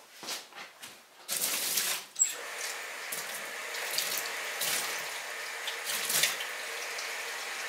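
A tap runs water into a bucket at a pottery glazing station: a few splashes first, then a steady gushing, hissing flow that continues close by, with no talk.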